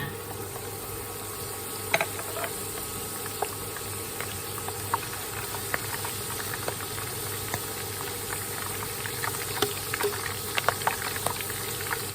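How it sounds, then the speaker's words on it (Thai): Kaffir lime leaves and basil leaves frying in hot oil in a Thai kitchen, giving a steady, fairly soft bubbling sizzle with scattered small pops and crackles throughout. "จากนั้นเราก็ใช้น้ำมัน ทอดใบมะกรูดกับโหระพานะคะ"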